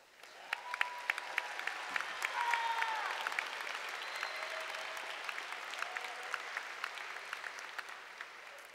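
Sustained applause from a large audience at a college commencement ceremony, steady dense clapping lasting throughout with a few brief whistles or cheers rising above it.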